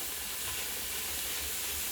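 Tuna pasta bake ingredients sizzling and hissing in a hot pan, a continuous broad hiss filling the whole moment without any talk.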